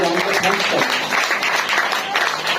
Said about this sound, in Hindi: इस बात के लिए जोरदार तालियां बजाएं